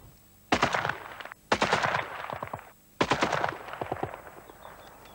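EM2 rifle firing in three rapid-fire bursts, each a loud crackling string of close shots lasting about a second, separated by short pauses.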